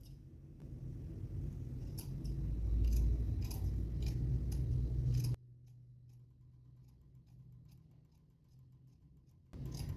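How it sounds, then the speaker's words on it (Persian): Scissors snip through fabric while shapewear is being sewn, producing a string of small sharp clicks over a rumbling background that drops to near silence partway through. "قیچی بزنید"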